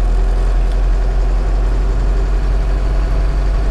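A Chevrolet D10 pickup's turbocharged Perkins diesel runs at a steady idle, a loud, close, low rumbling drone that holds even throughout with no voices over it.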